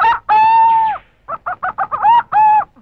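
A hen held in someone's grip clucks and squawks loudly and close, with long drawn calls followed by a quick run of short clucks and two more sustained cries.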